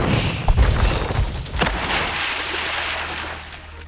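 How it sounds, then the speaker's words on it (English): Bombard cannon fire in Age of Empires II, a couple of sharp booming blasts early on followed by a rumbling battle wash that slowly fades, with no talking. "while he's distracted by the bombard cannon"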